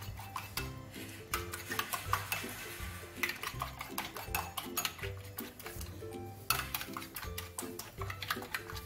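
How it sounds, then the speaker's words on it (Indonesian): Seasoning stirred into ingredients in a pan makes a run of repeated scraping and tapping strokes of a utensil against the pan, close and rhythmic over background music. "Sekarang kita aduk-aduk terlebih dahulu supaya bumbu dan bahannya tercampur rata"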